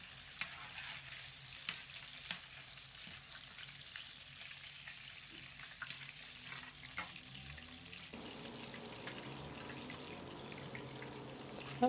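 Meatballs frying in a pan, a steady low sizzle and crackle with occasional stirring clinks, quiet and continuous throughout.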